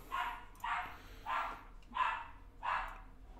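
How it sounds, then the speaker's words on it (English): Several dogs bark in five evenly spaced, yelping bursts with a whiny edge, each call distinct and moderately loud against a quiet indoor background. "my dogs are whining. Whining a lot."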